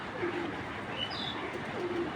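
Pigeons coo softly in a loft, a few low, gentle coos with a faint chirp, heard alone and fairly quiet.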